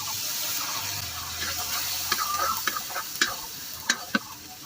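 A spice mixture with salt hits a hot pan with a steady close sizzle, while a spoon stirs and scrapes through it and gives a few sharp knocks against the pan toward the end.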